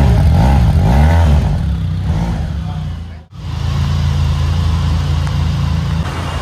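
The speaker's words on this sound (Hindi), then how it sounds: "चलिए अब थोड़ा स्टार्ट करते हैं बाइक को" A Benelli TRK 502X motorcycle engine revs loudly nearby, then cuts out briefly before restarting and settling into a steady, throaty idle.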